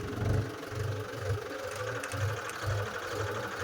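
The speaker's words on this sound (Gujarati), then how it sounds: "આપણું ટ્રેક્ટર તો ચાલુ થઈ ગયું છે" A tractor engine runs at a steady idle, giving a continuous low, rhythmic chugging knock that stays close and even throughout, with no voices.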